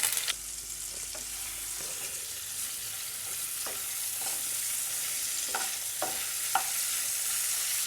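Cut cauliflower fries in oil in a pan with a strong, steady hiss of sizzling close by, broken by a few soft scraping stirs and with no talk.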